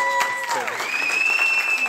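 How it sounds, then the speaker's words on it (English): A party crowd applauds and cheers, a steady wash of clapping with a sweeping whistle-like tone and crowd voices mixed in. "I want to say a big applause to Greg for this."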